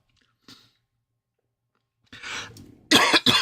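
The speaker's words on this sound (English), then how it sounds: "Just clear my throat 1 second." A faint click, then a rough throat clearing and a couple of harsh, coughing bursts close to the listener.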